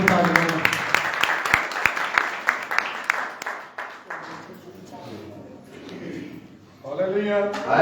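Congregation at a church gathering clapping loudly for several seconds with sharp, uneven claps, then fading out as a voice speaks over a quieter room, the talk rising again at the end.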